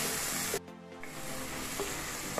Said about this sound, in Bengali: টমেটোটা দিয়ে ভালো করে একটু নাড়াচাড়া করে নিচ্ছি।